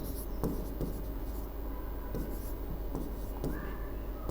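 A teacher writes by hand during a Hindi poetry lesson, with steady scratching strokes and occasional sharper taps over a constant background hum.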